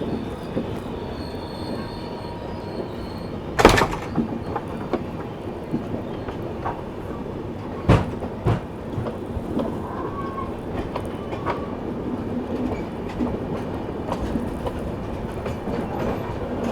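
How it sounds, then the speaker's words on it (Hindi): A Hyderabad–Nizamuddin Dakshin Superfast Express rolls past on the opposite track, a continuous close rumble of wheels and carriages with a few sharp clanks and rail squeals, no voices. "अभी दोस्तों उस और सामने से जाती हुई हैदराबाद निज़ामुद्दीन दक्षिण सुपरफास्ट एक्सप्रेस यहाँ पर क्रॉस होते हुए"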